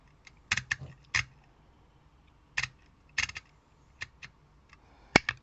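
Keys pressed on an Action label maker, giving sharp plastic clicks in small irregular clusters, close and quiet, with one louder final snap.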